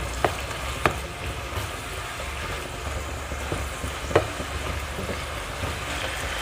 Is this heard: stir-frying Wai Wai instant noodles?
yes